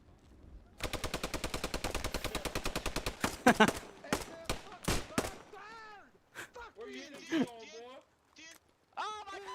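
A rapid, evenly paced burst of gunfire from the Post Scriptum video game executes a prisoner, followed by a few single shots, then voices talking over scattered quieter sounds.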